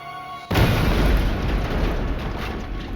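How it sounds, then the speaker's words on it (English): A mail-package bomb goes off with one sudden deep boom that cuts in after a short quiet stretch, then a sustained roaring rumble that slowly fades. "The explosion was the most gruesome yet"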